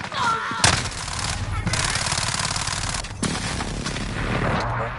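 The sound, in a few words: precision airstrike and gunfire in Call of Duty video game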